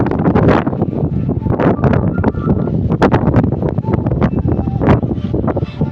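Strong storm wind buffets the microphone in loud, continuous gusts, roaring and rumbling with a few sharp rustling bursts, close and overwhelming, with no clear voices.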